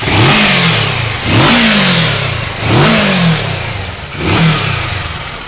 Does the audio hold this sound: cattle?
no